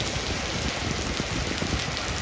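A heavy desert rainstorm near Palm Springs pours down steadily, a dense, even, close hiss of rain hitting surfaces with no break and no voices.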